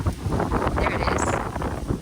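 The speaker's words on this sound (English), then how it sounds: "it's so windy" Strong wind buffets the microphone outdoors among orchid plants, a steady loud roar with gusty swells throughout.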